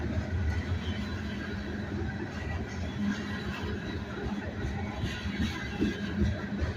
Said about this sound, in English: Few of them got flat spots on them. You can hear them when they come by.